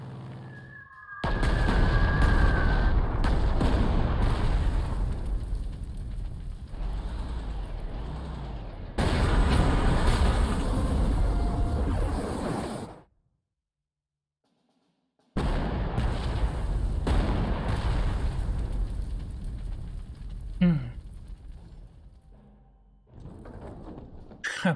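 Gunfire striking a tank in Panzer Corps 2 during a Normandy battle, loud bursts of shots and blasts lasting many seconds, then a short silence before another long loud volley.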